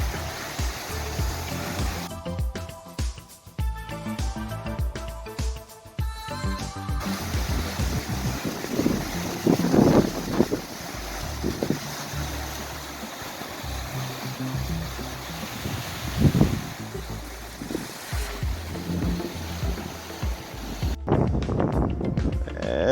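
High desert wind gusting through southwest Arizona during Winter Storm Landon in February 2022, kicking up dust: a loud, continuous broadband roar and buffeting with surging gusts, heard alone with no talking.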